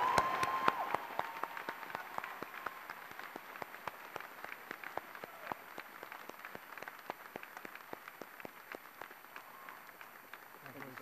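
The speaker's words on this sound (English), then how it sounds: "Let's once again give them a round of applause." Commencement audience at a university graduation ceremony applauding steadily for about eleven seconds, a dense wash of many hands clapping at moderate distance with no break.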